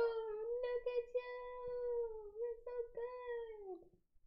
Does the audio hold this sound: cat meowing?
yes